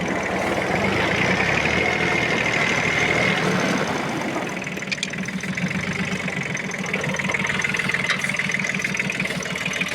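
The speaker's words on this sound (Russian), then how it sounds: "Такой вот мини-трактор Inmar AF18 компании Прогресс Авто." A Yanmar AF18 Japanese mini tractor engine idling close by with a steady, rough, knocking diesel chug, loud and continuous throughout.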